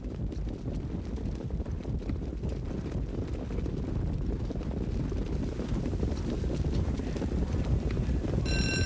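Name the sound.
harness racing horses leaving the starting gate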